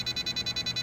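A Radiolink T8FB radio controller gives a rapid train of short electronic beeps, about eight evenly spaced pulses, over a steady electrical hum as a voltage warning.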